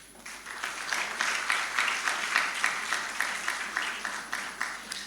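Audience applause rises as a governor and council members make their way up at a 60th anniversary launch ceremony for CIB Ghana, a steady moderate patter of many hands with rhythmic pulses, no voices over it.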